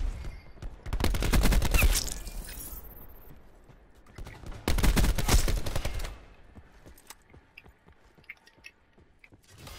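Two heavy bursts of rapid gunfire in a video game, separated by a short pause, then sporadic single shots trailing off into quieter clatter.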